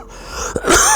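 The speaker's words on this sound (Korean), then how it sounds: "누가 기침을 하였는가?" A single short, harsh cough-like burst, close and loud, over a steady background hiss.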